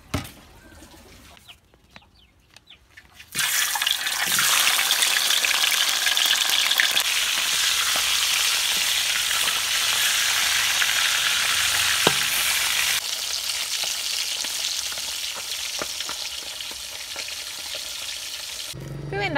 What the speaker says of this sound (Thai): แล้วเขาจะทอดปลาทู